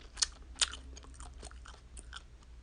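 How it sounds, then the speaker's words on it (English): Chewing gum close to the mouth gives soft, wet smacking and clicking sounds, with a couple of sharper snaps early on, quiet and without any talking. "I love chewing gum"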